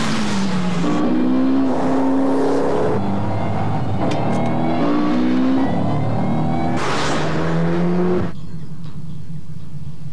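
A 2007 Shelby GT500 engine revs hard and accelerates through several gear shifts, each rising howl dropping and climbing again, loud and close before a sudden cut near the end.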